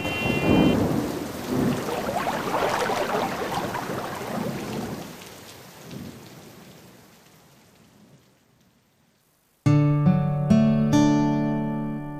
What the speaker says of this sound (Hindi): बाहर घनघोर बारिश हो रही है।